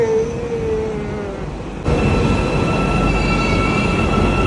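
An Istanbul metro train rumbles along steadily with a faint high squeal, then grows louder and noisier partway through as it picks up, clattering continuously.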